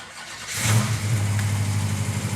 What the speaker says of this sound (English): That's a 392 cubic inch bad boy. Listen to that.